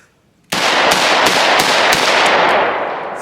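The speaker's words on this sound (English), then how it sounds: "I'm just rapid firing the 410." Rapid burst of gunfire from a Taurus Judge Magnum revolver firing .410 shotgun shells outdoors, several loud sharp reports in quick succession over a sustained roar of blast and echo.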